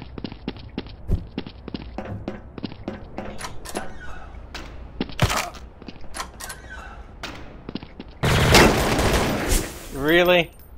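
Pistol shots in Counter-Strike: Source ring out as scattered sharp cracks among other in-game gunfire and clatter, with a loud burst of noise and a voice near the end.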